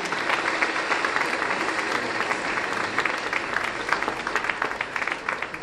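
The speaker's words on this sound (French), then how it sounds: "c'est les applaudissements." Steady, dense applause from an audience at an awards ceremony honoring recipients, with sustained clapping filling the whole stretch at an even level and no voices over it.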